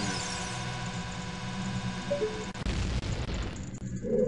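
Game music from Zelda: Ocarina of Time plays until a booming explosion hits, a burst of low rumble with crackling debris that fades into further pops.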